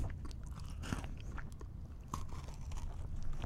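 Crunchy bites and chewing of a Twix bar's cookie base with chocolate and caramel, close to the mouth and quiet, a few crisp crunches over a low steady background hum.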